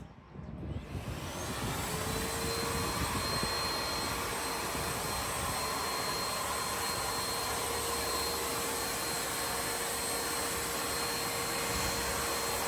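A WORKPRO grey backpack vacuum cleaner runs steadily and loudly, starting up in the first second and then holding a continuous whirring drone with a high whine on top, with no voices.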